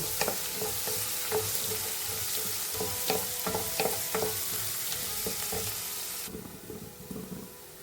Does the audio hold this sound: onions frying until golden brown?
yes